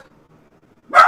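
After a near-silent pause, a dog gives one sharp, loud bark close by.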